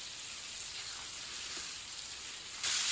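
Finely chopped potatoes sizzle and fry in a hot pan, a steady hissing crackle that holds throughout and grows a little louder near the end, with no voices.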